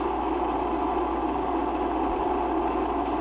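Space Shuttle Discovery's three liquid-fuel main engines during launch from Kennedy Space Center, a steady, dense roar with deep rumble, continuous and unbroken, with no voices over it.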